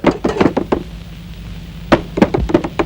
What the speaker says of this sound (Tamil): எங்க கதவு தட்டுறது யாருன்னு சொல்ல மாட்டீங்களா?